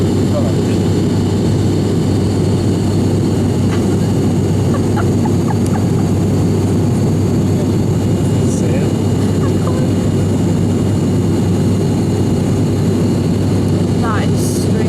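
Cabin drone of a propeller airliner in flight on a domestic hop, a loud steady low-pitched roar with a constant hum that never lets up, faint voices occasionally audible beneath it.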